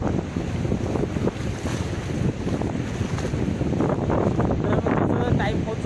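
Waves wash onto a sandy sea beach at Kelva in Palghar, a steady broad roar mixed with strong wind buffeting the microphone, with faint voices in the background.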